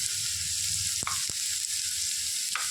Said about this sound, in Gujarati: હવે બટેકા આપણા પાકવા આવ્યા છે